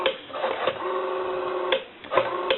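A cleaned and oiled Western Electric 5302 rotary telephone dial spinning back after being turned, producing a whirring mechanical buzz with clicks, heard in two or three recoils with short gaps between.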